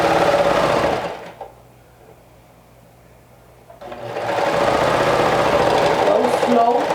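A sewing machine runs a fast, steady whir while stitching a dress seam, stops for a couple of seconds, then starts again and keeps running, close and loud.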